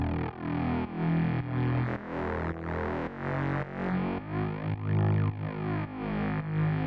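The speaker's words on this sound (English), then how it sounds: "what I did is use this convolve function to sort of replicate a guitar amp sort of sound" Synth bass from Serum shaped by iZotope Trash 2 with a convolve guitar-amp simulation, growling and distorted, holding a run of long pitched notes with short breaks and some warbling movement, loud and alone.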